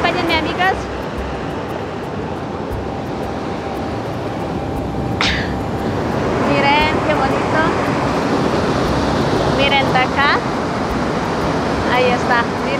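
Waterfalls during rain near La Paz, Bolivia, produce a steady, broad rushing roar throughout, with occasional high chirps and a brief tonal whine over the top.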